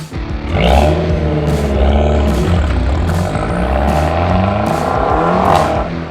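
A Fiat 500 Abarth engine fires up and settles into a loud, throaty idle with rhythmic revving pulses, heard close from inside or beside the car.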